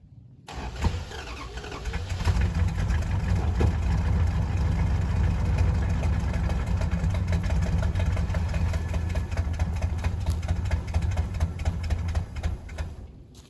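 The engine of a 1971 Dodge Charger Super Bee that has not run in 34 years sits running after a brief start, holding a loud, rough, steady rumble close by for more than ten seconds, with no speech.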